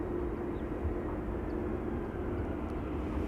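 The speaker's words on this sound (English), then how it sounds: "EasyJet A319 arriving from Bristol up next." An EasyJet Airbus A319 arriving at Amsterdam Schiphol from Bristol, a continuous low engine rumble with a faint steady whine, even and unbroken throughout.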